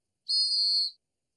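A single blast on a hand whistle, shrill and steady, held for about three-quarters of a second and heard close with nothing else around it.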